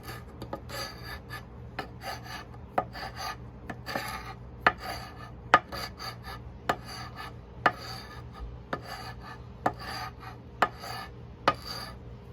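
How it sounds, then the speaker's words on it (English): Old varnish being scraped off the wooden frame of a Morris Minor Traveller, close rasping strokes with sharp scrape peaks about every second, steady and repeated, no voices. "So you can see how it's taking up that old varnish off of there."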